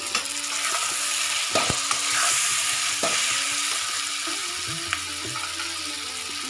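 Soya chunks tipped into a hot pan of oil sizzle steadily and close by, while a spatula scrapes and clatters in a few uneven strokes, with no talking.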